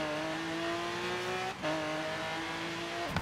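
A yellow Camaro Z28 races in Forza Horizon, its engine holding a loud steady whine that drops briefly at a gear change and then climbs again, with a short tire squeal near the end.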